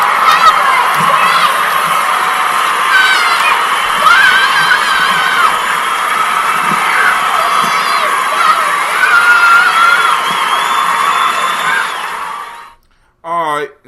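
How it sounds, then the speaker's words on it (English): An audience cheers, shouts and whoops loudly and without a break, with children's high voices prominent in the crowd. The noise stops abruptly near the end and a brief voice follows. "Give him a round of applause."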